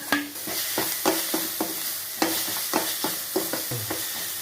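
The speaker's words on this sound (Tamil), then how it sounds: "இப்போ துருவி வச்சுருக்க மாங்காய் இதில் போட்டு நல்லா வணக்கிக்கணும்." Grated raw mango is sautéed in a pan, making a low, steady sizzle. Over it come about a dozen sharp scrapes and taps from a spatula stirring in an irregular rhythm, and no one speaks.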